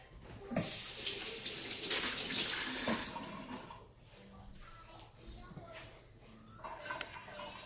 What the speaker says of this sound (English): So I'm gonna wash my hand.